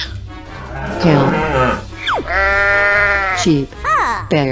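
Cartoon sheep bleating in a children's animal-painting game, a few wavering bleats loud and close amid playful sound effects.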